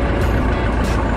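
A toy bulldozer lowers its blade with a brief, loud burst of continuous engine-like rumble and grinding noise, heard up close and alone.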